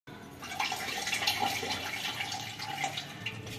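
A Haier automatic washing machine fills with water, giving a steady rushing, splashing hiss throughout with small fluctuations and no talking.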